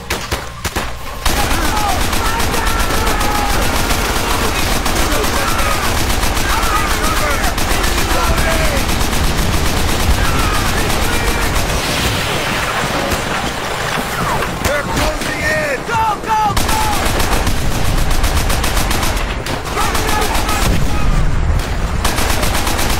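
Dense, loud gunfire from Call of Duty: World at War, with continuous machine-gun and rifle bursts forming a constant roar throughout, while voices shout over the battle.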